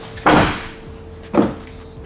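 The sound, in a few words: camper van door being closed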